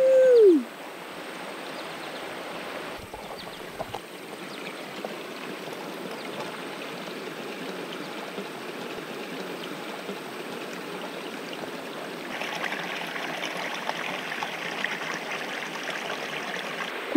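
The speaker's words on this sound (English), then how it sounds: "Just letting the river go by." Water flows steadily in a river, a soft continuous rushing wash with a brief tonal whistle at the very start.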